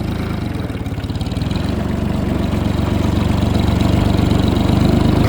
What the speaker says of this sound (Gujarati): તો ગાઈસ આપણે આપણું ટ્રેક્ટર ને બ્લોઅર લઈને નીકળી ગયા.